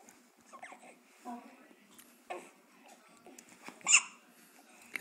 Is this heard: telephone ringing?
no